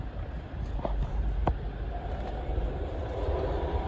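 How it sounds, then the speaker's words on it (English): An ex-LNER High Speed Train, power car 43328 leading with 43295 at the rear, arrives from the depot near Finchley Road. Its engine makes a steady, low, moderately distant rumble. "It's an ex-LNER HST 43328 coming in from the depot, and 43295 at the rear."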